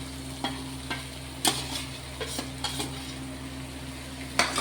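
Spice masala paste with beaten curd sautéed in a pan, a quiet hissing sizzle under a steady low hum, punctuated by several sharp spatula knocks and scrapes against the pan, close and without talking.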